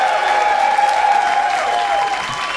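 Loud, close audience applause for a stand-up comedian at an improvised comedy show, continuous clapping from a crowd with a sustained tone ringing through the room underneath.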